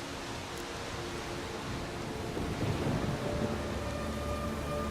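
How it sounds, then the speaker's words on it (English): Thunderstorm in The Witcher 3: Wild Hunt forms a dense, continuous roar of rain and wind, with a low rumble of thunder swelling slightly midway, and no voices. "Storm's died down."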